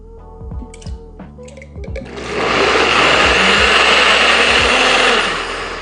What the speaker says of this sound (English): I'm gonna throw it in a NutriBullet